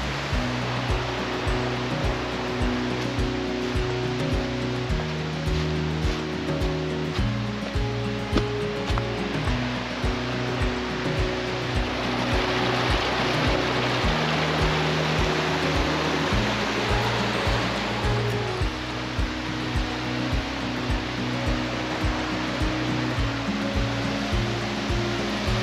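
Waterfalls rush steadily through Flume Gorge in Franconia Notch, a dense, constant roar of falling water close by, with no voices over it.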